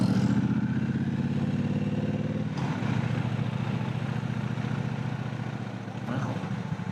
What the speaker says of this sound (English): Oh, a nice little scooter.